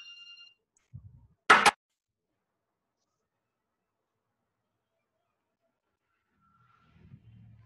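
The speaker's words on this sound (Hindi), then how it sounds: "फोन बज रहा" A phone rings during a lecture on using an e-library for research, with a brief electronic ring tone at the start and another faint one near the end. Between them come a few soft knocks and one sharp loud burst, with long silence.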